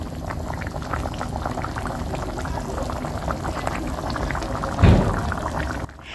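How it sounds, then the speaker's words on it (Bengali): Potatoes boiling in water in a pot: a steady, dense bubbling that holds throughout, with a louder gurgling surge near the end before it cuts off. "তারপরে সেদ্ধ করে নেব আলুটাকে"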